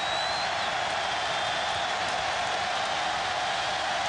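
A stadium crowd cheers at an Ole Miss vs Alabama college football game, a dense, steady roar of many voices heard from a distance with no break.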